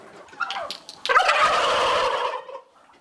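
A turkey gobbles loudly and close by at a poultry research station in Kharkiv region, a rapid warbling call lasting over a second, preceded by a shorter squawk.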